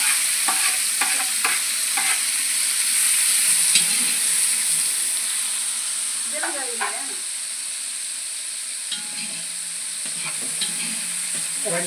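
Tomatoes and green chillies fry in a pan for biryani with a continuous close sizzle and hiss, broken by the scraping clatter of stirring at intervals.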